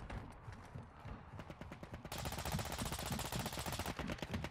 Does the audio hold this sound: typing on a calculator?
no